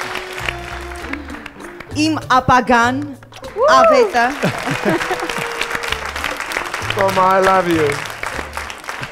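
An audience at a televised singing contest audition applauds, a broad wash of clapping running under a woman's speech and brief singing.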